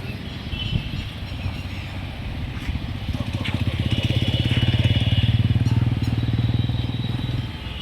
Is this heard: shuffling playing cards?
no